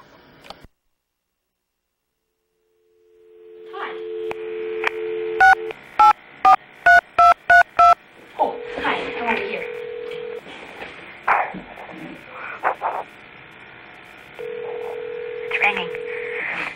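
A telephone is dialed with a quick run of about eight bright DTMF keypad tones, preceded and followed by steady dial or ringback tones, with people talking around them.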